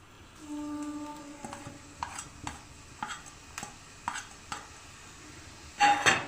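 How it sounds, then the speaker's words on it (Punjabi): Ajwain seeds and finely chopped garlic cook in oil in a pan, with a soft steady sizzle under repeated sharp scraping and stirring knocks of a utensil against the pan, louder clatter at the end. "ਆਪਾਂ ਚੰਗੀ ਤਰ੍ਹਾਂ ਪਕਾ ਲੈਣਾ ਤੇਲ ਦੇ ਵਿੱਚ ਅਜਵਾਇਣ ਨੂੰ ਤੇ ਲਸਣ ਨੂੰ"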